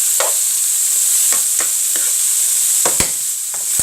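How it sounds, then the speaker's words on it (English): Peppers and onions fry in a pan with a steady bright sizzle, punctuated by several sharp scrapes and clicks as they are stirred, close and without talking. "we're just frying peppers and onions"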